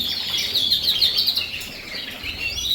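Canaries in breeding cages chirp in a rapid, high twittering chorus, continuous and fairly close, over faint low room noise.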